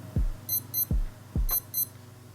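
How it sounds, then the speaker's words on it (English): A Casio F-200W digital watch (module 3233) sounds its alarm test, giving short paired high electronic beeps mixed with soft button thumps, quiet and close with no talking. "So press and hold the start button and it will give beeping sound."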